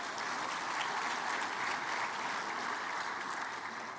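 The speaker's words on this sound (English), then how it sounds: "So please, a warm round of applause for them as well." Audience applause for partners at the Commonwealth Business Forum opening ceremony in Kigali, a continuous even wash of many hands clapping in a large hall, moderately distant and steady for the whole stretch, with no talk.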